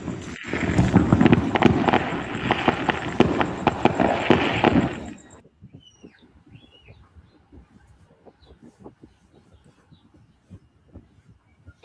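Fireworks over Los Angeles: a dense crackling barrage of many overlapping pops and bangs, heard distantly through playback, that cuts off abruptly midway and leaves only faint scattered pops.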